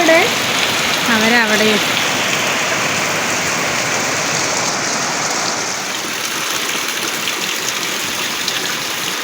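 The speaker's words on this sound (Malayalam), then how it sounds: "നല്ല മഴ" Heavy rain pours down in a dense, steady roar of drops hitting surfaces, loud and close, with a brief voice at the start before the downpour continues alone.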